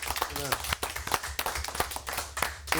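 Studio audience on a French end-of-season special applauding a guest, scattered claps with sharp transients mixed under continuous talk and voices.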